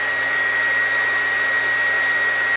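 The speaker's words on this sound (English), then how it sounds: "We wanna dry this thing a little bit faster, so I've got a hair dryer here." A hair dryer blows at a steady, close whir, drying wood putty on a damaged hardwood floor, then stops abruptly.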